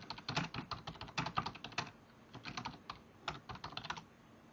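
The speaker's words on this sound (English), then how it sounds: "So type in" Rapid bursts of keystrokes on a computer keyboard, close and clear, typing in irregular clusters with brief pauses between, no talk.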